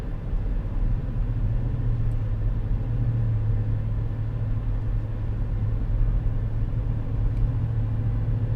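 A Chevrolet Tahoe RST's engine pulls steadily uphill, a low droning rumble heard from inside the cabin, constant and unwavering with road noise beneath.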